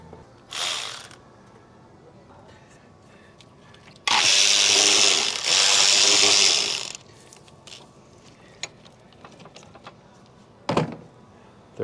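A ratchet works a roughly 13 mm bolt on the upper intake of a 2014 Chrysler minivan, giving a few short clicking bursts and one long steady ratcheting stretch, close and fairly loud, separated by quiet pauses.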